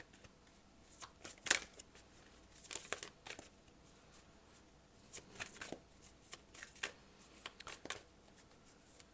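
Tarot cards are shuffled by hand in a series of crisp, close riffling bursts with soft pauses between them, quiet and free of talk.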